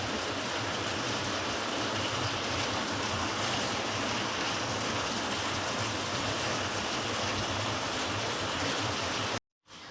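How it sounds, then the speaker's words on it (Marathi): Heavy afternoon rain pours down in a dense, steady hiss that fills the whole stretch, loud and close with no voices, then cuts off abruptly just before the end. "इतका मोठा पाऊस यायला लागला आहे ना खूप म्हणजे खूप मोठा पाऊस यायला लागला दुपारच्या वेळेस"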